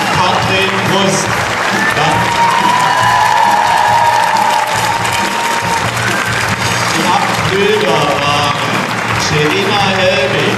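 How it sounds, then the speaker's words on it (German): A theatre audience gives loud, sustained applause and cheering after a school musical about Joseph, dense clapping with shouts and voices mixed in throughout. "Nochmal einen riesigen Applaus"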